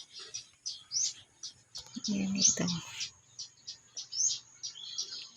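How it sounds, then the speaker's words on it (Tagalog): A small bird in a rural backyard garden chirps in quick repeated bright bursts throughout, with a person speaking briefly in the middle. "Then may ibon ako dyan."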